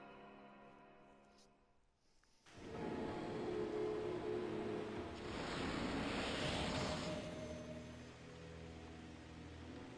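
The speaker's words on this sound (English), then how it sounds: "There's even a waterfall." Rushing waterfall and flowing water in the Okami video game, starting abruptly after a quiet moment and then holding as a steady, dense roar that swells midway, with no talk.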